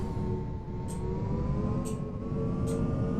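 A Lotus supercar in PUBG gives off a thin, rising electric-style whine over a low steady hum, with a few faint short ticks.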